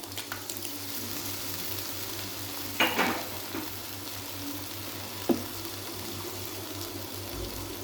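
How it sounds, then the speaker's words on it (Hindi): Chicken pulao base frying in a pan as yogurt goes in, a steady soft sizzle broken by two short louder bursts of stirring or pouring, close and fairly quiet with no talking. "और मैं इसको अच्छी तरह भूनूंगी, अच्छी तरह। अब हम इसके अंदर डालेंगे दही।"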